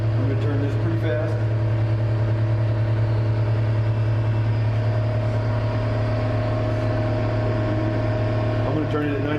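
A metal lathe turns a muzzle brake part at about 900 RPM, giving a steady, loud motor hum with sustained whining tones that hold evenly throughout, with no talk.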